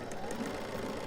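Close and quiet, a Bernina 780 sewing machine stitches in a soft, even whir with a faint rhythmic ticking.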